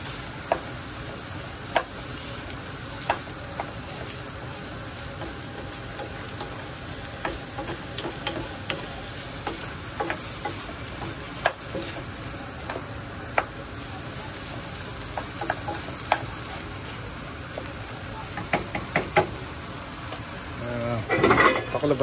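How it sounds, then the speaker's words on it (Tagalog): Food frying in a pan on a low, continuous sizzle with occasional spoon clicks and scrapes, sparse at first and busier toward the end, with faint background voices at times. "Haluin nyo lang po, baka matuyo"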